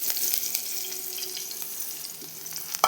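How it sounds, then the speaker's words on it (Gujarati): Green chillies and curry leaves crackle in hot oil with the flame just switched off, a soft continuous sizzle with small pops and a sharper clatter near the end, no voices. "લીલા મરચાં અને મીઠો લીમડો આમાં એડ કરી દીધું"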